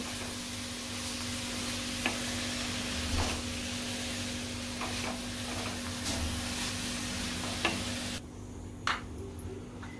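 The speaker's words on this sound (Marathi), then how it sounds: "आता पालक घालायचा आहे, मिक्स करून घेते।" Spinach being stirred into chickpeas in a pan, a quiet sizzle under a steady hum, with a few soft clinks and scrapes of the spoon, and the sizzle dropping away near the end, no voices.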